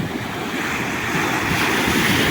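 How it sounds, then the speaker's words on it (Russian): Steady, loud surf washes onto the Black Sea shore, with gusts of wind buffeting the microphone and no voices. "Прибой морской"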